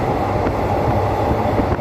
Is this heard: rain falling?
no